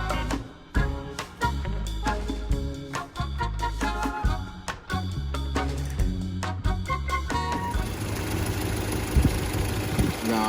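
A motorbike engine starts and settles into a steady, close idle, its broad rumbling hum running continuously after a burst of uneven, knocking start-up sounds.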